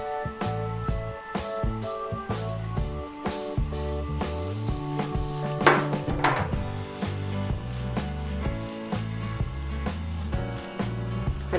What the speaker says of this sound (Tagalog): Haluin lang natin siyang maigi.